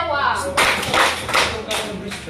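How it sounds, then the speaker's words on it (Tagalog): A primary-school class of fourth-graders claps together, a few loud, sharp bursts in quick succession that fill the room, with a voice briefly audible around them. "Bigyan natin ng 3 palakpak ang pangkat-2."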